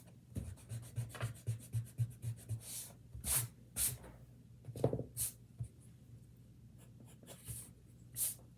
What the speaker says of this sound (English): And then I can erase inside of the ribbons.